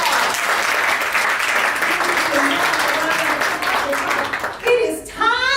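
Loud, dense audience applause welcoming a speaker at a business training seminar, continuous for several seconds, then fading as a voice begins speaking near the end.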